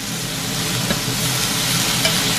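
Steady sizzling of capsicum and other vegetables roasting in a hot pan, a constant crackling hiss with a couple of faint clinks, close and fairly loud.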